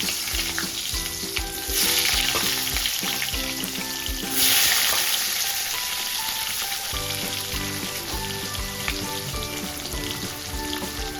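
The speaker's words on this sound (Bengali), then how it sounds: "ওই তেলে দিয়ে দেবো পাতলা করে কেটে রাখা আলু" Thin potato slices frying in hot oil seasoned with nigella seeds in a home kitchen, a steady loud sizzle with occasional stirring scrapes, heard close and with no talking.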